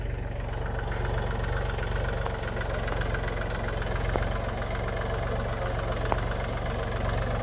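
A tractor engine idles steadily nearby, a low, even rumble with a constant throb that runs unbroken for the whole stretch. No one speaks.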